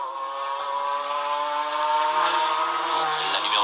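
A race car at the 1996 Le Mans 24 Hours, a loud sustained engine note rising in pitch as it passes close by, steady and continuous with no voices.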